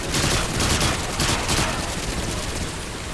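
Gunfire in Call of Duty: Modern Warfare 2, a loud sustained burst of rapid shots that fills the whole stretch, close and dense, with no talk.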